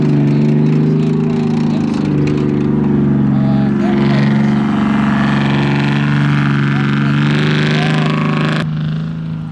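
A WW2-era military half-track at a wartime vehicle weekend drives past with a loud, steady low engine drone and track rumble that holds throughout, easing off slightly at the end.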